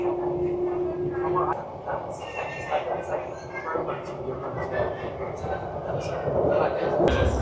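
A London Underground train runs near Wembley Stadium, its steady rail rumble and wheel noise continuing under a voice talking throughout, with some louder clatter toward the end.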